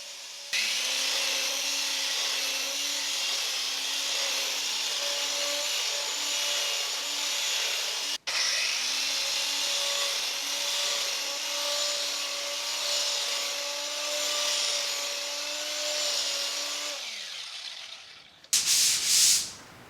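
A YATTICH electric drywall sander hums steadily at minimum speed, a close tonal motor drone with a gritty sanding rasp, briefly cut once, then winding down before a short loud scrape at the end.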